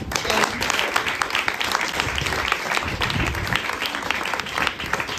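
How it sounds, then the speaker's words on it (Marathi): Sustained applause from an indoor audience at a children's literature gathering, honouring an award-winning Paralympic athlete: dense, steady clapping from many hands throughout, fairly close and loud. "त्याच्यासाठी टाळ्या वाजवायच्या."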